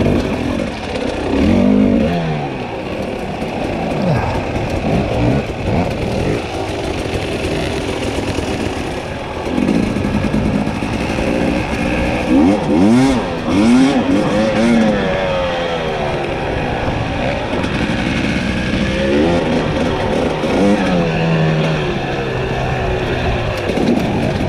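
A 300 trail motorcycle engine revs and bogs under load on a trail, rising and falling in loud bursts with rapid pitch sweeps throughout, close to the listener and with no talk.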